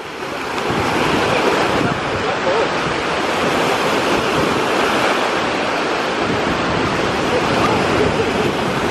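Ocean waves break on a beach with a constant roaring wash of surf and heavy wind buffeting the microphone, loud and close throughout.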